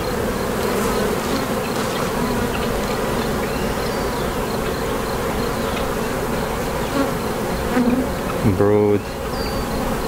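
A dense, steady buzz of many honey bees swarms around an opened hive during a colony split, loud and close, with a brief spoken word near the end.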